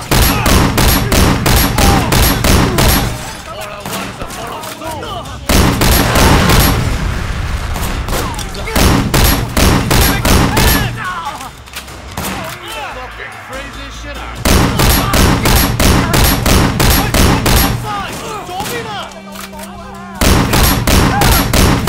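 Gunfire in the video game Sleeping Dogs: Definitive Edition comes in loud, rapid bursts of automatic shots with booming impacts, cutting in and out in clusters, and voices speak between the volleys.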